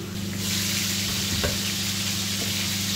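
Meatball sauce of tomato sauce and Worcestershire stirred in a hot pan, a steady close sizzle with a couple of soft spoon scrapes and taps against the pan, and no one talking.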